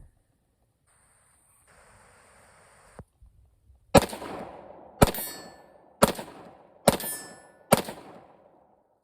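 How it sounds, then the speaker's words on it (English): Five M&P 5.7 pistol shots fired at a steel target, evenly spaced about a second apart, each a loud sharp crack with a ringing metallic tail, after a quiet stretch of faint handling noise. "You can see the steel target down here, and I'm just gonna try to take a few shots"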